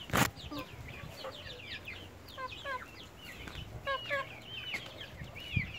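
Hens and a rooster in a farmyard coop on a cool day after rain, clucking and calling in short repeated bursts, fairly close, with a sharp knock near the start and a steady low hum underneath.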